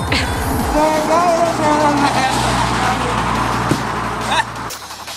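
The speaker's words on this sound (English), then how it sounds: "there's a car coming" A car approaching and driving past close by, a rising then fading engine rush lasting several seconds, with people talking over it.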